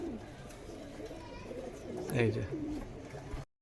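Pigeons at a market coo in low, soft throaty calls that swell briefly near the end, with someone speaking close by and market noise behind.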